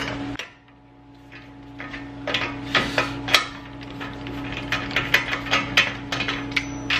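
Repeated ratcheting clicks and metallic knocks as a jack handle is worked on the front suspension of a BMW E34 540, coming in quick uneven bursts over a steady mechanical hum, close by, with no talk.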